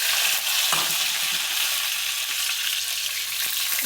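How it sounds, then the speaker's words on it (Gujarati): Stuffed baby brinjals fry in a hot tempering, a loud, steady sizzle that hisses on without pause and with no voices. "મસ્ત રવૈયા વઘારી દો."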